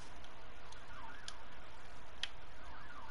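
Faint, wavering video game emergency sirens sweep up and down in the distance over a steady background hum, with a couple of sharp electronic blips.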